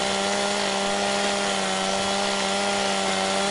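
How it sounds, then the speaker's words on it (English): A chainsaw cutting through a fairly large tree in Farming Simulator 17, a steady, continuous droning engine whine holding one pitch throughout, loud and unbroken with no talking. "let's go ahead and now straighten our chainsaw. And let's go cutting straight through here."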